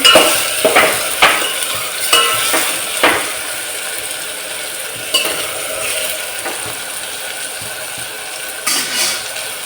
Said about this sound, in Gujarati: તેલમાં સળગવું એકદમ જોરદાર તુરિયાનું